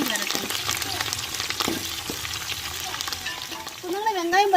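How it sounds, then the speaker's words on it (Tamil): Chopped onions and green chilies fry in hot oil in a pan for a fish dish, giving a continuous close sizzle with occasional stirring clatter and a faint voice toward the end. "நல்லா வெங்காயம் பச்சை மிளகாய் எண்ணெயில நல்லா வதங்கி வரட்டும்."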